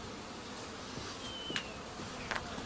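A honeybee swarm clustered in a clump above a hive drones in a steady, soft outdoor buzz, with a few individual bees zipping briefly past nearer by.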